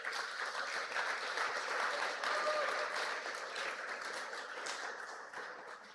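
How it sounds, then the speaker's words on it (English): Sustained audience applause at a forum, a dense, even wash of clapping that holds steady for several seconds before easing slightly toward the end. "Let's take a moment and applaud that"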